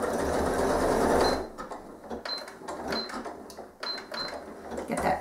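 Sewing machine stitching a fabric postcard in white polyester quilting thread, a steady close mechanical whir broken into short bursts with brief pauses and small clicks as the piece is turned.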